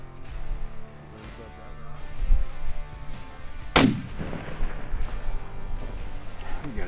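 A single sharp rifle shot cracks loudly outdoors mid-clip during a West Texas aoudad hunt, with wind noise and shuffling before and after.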